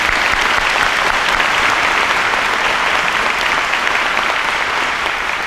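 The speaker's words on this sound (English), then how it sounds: "Let's give them a nice round of applause." Loud, close, continuous applause from a school awards audience cheering junior high quiz bowl teams, a thick unbroken roar of clapping hands from start to finish.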